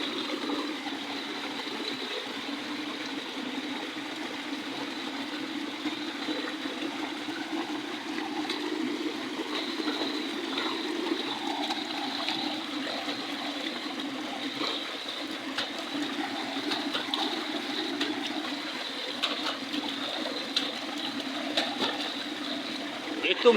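Water flows steadily in a deep excavated pit dug by a backhoe at a construction site in Sorsogon City, a continuous close rushing and trickling wash that stays even throughout with no talk over it.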